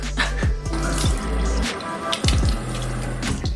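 A running water tap used to rinse a face, a steady close stream broken by repeated splashes and gurgles as hands cup and throw water, with a brief lull midway before the flow resumes.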